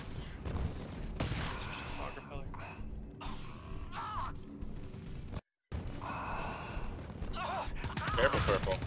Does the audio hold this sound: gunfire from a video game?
yes